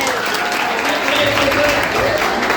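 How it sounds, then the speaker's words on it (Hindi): Audience at a college traditional day clapping for magician Sagar Shinde, a loud, dense, steady wash of applause with voices talking underneath. "एक बार तो ताली बजनी चाहिए सागर सर के लिए।"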